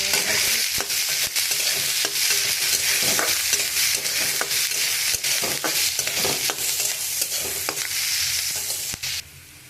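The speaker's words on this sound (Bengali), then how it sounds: "পেঁয়াজটা ভাজা হয়ে গেছে" Onion frying in hot oil with black cumin seeds and green chili makes a loud, continuous sizzle close by. Sharp scraping clicks from a spatula stirring the pan break in over the sizzle at irregular intervals, and no one speaks.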